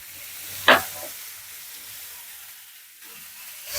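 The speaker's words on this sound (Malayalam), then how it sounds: "ഓയിലും എല്ലാം കൂടെ നല്ലതായിട്ടൊന്ന് ഇളക്കി" Sliced onions sautéing in oil while being stirred, a soft low sizzle with one sharp scrape of the spoon early on, fairly quiet and without speech.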